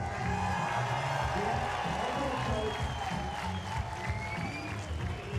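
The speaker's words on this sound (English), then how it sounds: "And let's hear if you're cheering from Denmark." A crowd of spectators at a world archery championship recurve final in Copenhagen cheers and applauds continuously, a broad wash of clapping and shouting heard from some distance.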